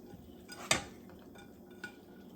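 Plating up fried pork chops, rice and rolls onto dishes: a sharp clink of a utensil against a plate, then a softer second tap over quiet kitchen background.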